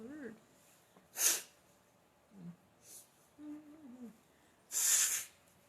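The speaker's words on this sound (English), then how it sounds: "I'm going to go out of shot and blow my nose" Two sharp, noisy bursts of nose-blowing, one short and one longer, with quiet murmured voice and a low hum between them.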